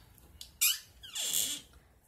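A door creaks open in a FNAF animation, giving two short squeaky whines in quick succession, the second longer and sliding in pitch, against a quiet background.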